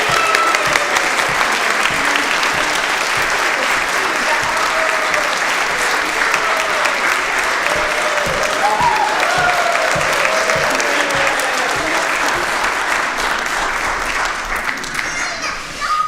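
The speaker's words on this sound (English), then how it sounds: "Let's give these actors a round of applause." Sustained applause for actors after a Diwali telling of the Rama and Sita story during a worship service, steady and full for the whole stretch, with children's voices faintly mixed in before it thins at the end.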